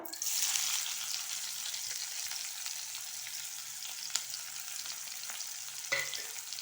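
A large onion sizzles steadily in coconut oil in a home kitchen pan, cooking for pumpkin bharta. The quiet, even frying hiss is broken by a brief stirring clink near the end.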